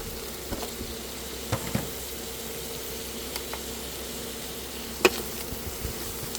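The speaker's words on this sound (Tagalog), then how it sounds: "I will let it saute there for a little bit so that it will be a little bit brown" Chicken sizzles softly in a pan while it browns for pancit bihon, a faint steady frying hiss with a few light clicks and taps of utensils.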